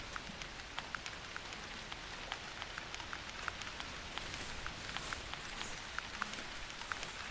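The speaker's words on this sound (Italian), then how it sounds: "Comincia a piovere." Rain falls in the hunting video game The Hunter, a steady, even patter with many small drops ticking throughout and no voices.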